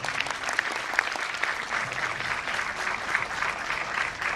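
A crowd at a school Grandparents' Day celebration gives a steady round of applause, dense and continuous clapping with scattered louder claps, fairly close and alone with little talk.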